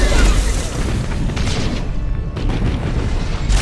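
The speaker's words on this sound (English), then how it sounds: "Fire the cannon." Ship cannons firing in the space strategy game Battlefleet Gothic Armada, a dense run of heavy rumbling booms and blasts layered over one another, loud and close throughout.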